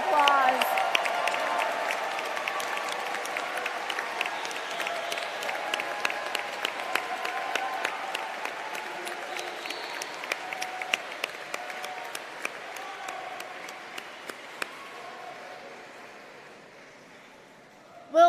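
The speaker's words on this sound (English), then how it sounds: "Let's give our Master of Music student degree recipients another round of applause." A crowd at the Manhattan School of Music commencement gives a long, sustained round of applause for Master of Music degree recipients. The dense clapping carries on steadily for many seconds before slowly tapering off.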